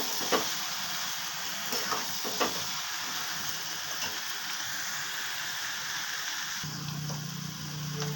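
Chopped tomatoes and two green chillies hit a mixed vegetable fry with sesame, giving a close, steady sizzle and hiss with a few soft stirring clicks and scrapes, and a low hum joining near the end.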